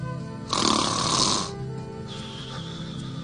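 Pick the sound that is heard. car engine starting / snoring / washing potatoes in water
snoring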